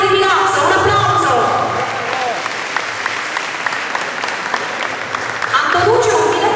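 Loud, sustained applause from a crowd fills the room, with voices briefly heard at the start and again as the clapping fades.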